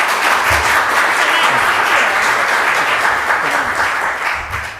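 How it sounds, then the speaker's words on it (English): A conference audience claps warmly to welcome a keynote speaker at an in-person fall meeting, a full, close wash of applause that holds steady for several seconds before starting to fade. "Please give a round of applause and welcome Commissioner Clements."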